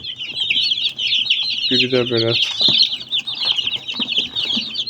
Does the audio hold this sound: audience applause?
no